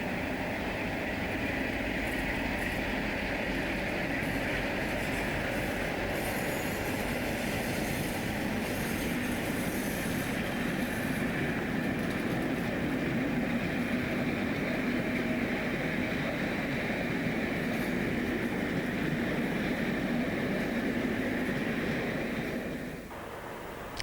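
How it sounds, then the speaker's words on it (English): Great Western Penzance-bound train with two car-carrying vans at the front, rumbling past steadily at moderate loudness for a sustained stretch before the sound drops off abruptly at the end. "Note the 2-car carrying vans at the front of this Penzance-bound train."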